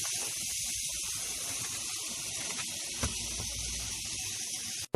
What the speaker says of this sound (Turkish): Biraz kendi yağıyla kızarsın tavada.